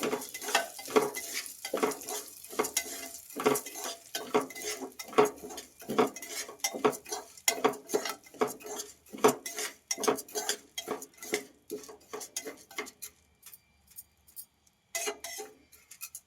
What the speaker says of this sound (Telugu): ఇందులోనే కొంచెం అవిసె గింజలు వేసేసుకొని ఫ్రై చేసేసుకోవాలి